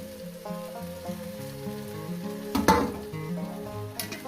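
Potato and green jackfruit frying in spices in a pan, soft steady sizzle with a stir and clatter midway, close and moderately quiet, with music playing over it.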